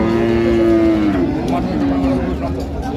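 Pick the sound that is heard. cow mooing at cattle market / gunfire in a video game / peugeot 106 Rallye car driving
cow mooing at cattle market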